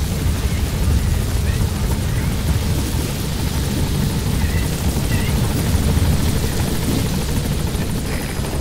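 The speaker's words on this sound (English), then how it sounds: "Support helicopter has arrived." A support helicopter's rotor chops loudly and continuously nearby in the video game Metal Gear Solid V, a dense thudding roar that holds steady throughout, with faint chirps above it.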